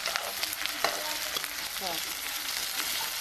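Green chilli, garlic and onion fry in a pan with a steady, close broadband sizzle, broken by a few sharp clicks and scrapes from stirring.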